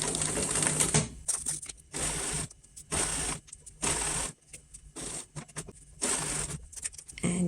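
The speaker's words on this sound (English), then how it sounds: "And now I'm going to sew it with a centimeter seam allowance." A sewing machine stitches a facing seam in several close, rapid bursts of whirring and clatter separated by short pauses.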